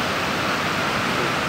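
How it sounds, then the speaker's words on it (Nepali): The swollen Rohini river rushes past at night after heavy rain, a dense, constant roar of churning water with no let-up, loud and close, with no voices heard. "यो रोहिणी खोला यति डरलाग्दो बढेछ हौ"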